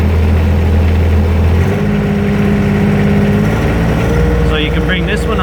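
A John Deere 1025R compact tractor with a Mauser cab runs close by with the PTO engaged, its engine holding a loud, steady drone that shifts slightly in pitch partway through.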